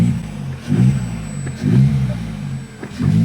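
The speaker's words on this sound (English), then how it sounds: "All of a sudden, you can hear the turbos more, you can hear the supercharger more, everything's just banging." Vauxhall Corsa with a Ramair performance air filter, its engine revved in three short, loud, close blips with a steady idle between them.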